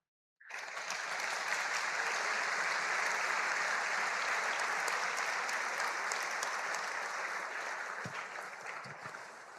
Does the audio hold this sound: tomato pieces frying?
no